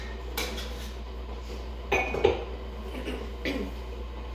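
A pet dog named Ruby chewing a treat indoors, a few faint clinks and crunchy ticks scattered over a steady low room hum, with one sharper knock near the middle.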